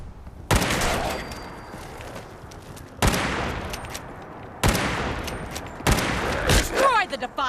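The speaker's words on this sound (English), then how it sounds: "The short lever action rifle is just a basic lever action rifle, however it has increased ballistic damage and bonus rad damage." Lever action rifle fire in the Fallout 4 video game, four loud, sharp shots spaced a second or two apart, each one trailing off into a rumbling echo and mechanical clatter.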